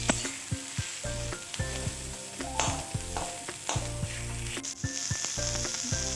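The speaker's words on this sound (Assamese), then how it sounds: "পিঁয়াজখিনি ভাজা হৈছে। এতিয়া মই টমেটো চচ দি আছোঁ।" Onions sizzle and fry steadily in a pan while a fish curry is cooked, with a few louder knocks and clinks of a stirring spoon against the pan, close and continuous with no talking.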